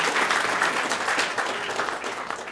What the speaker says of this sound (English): let's give all four of these people a nice round of applause